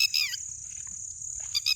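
A bird near a tent at night gives quick, high chirping calls in two short bursts, at the start and again at the end, over a low steady hum.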